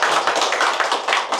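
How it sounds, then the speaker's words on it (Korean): Audience at a civic elders' emergency press conference in Korea clapping in a brisk, steady round of applause, many hands close and fairly loud, no talking over it. "힘찬 박수 부탁드리겠습니다."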